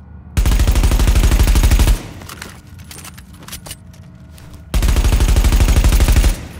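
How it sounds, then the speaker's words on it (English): A low-accuracy submachine gun in The Division shooter game firing two loud, rapid full-auto bursts of about a second and a half each, separated by a quieter gap of ambient clicks and rustle. "Here is an example of a low accuracy SMG shooting."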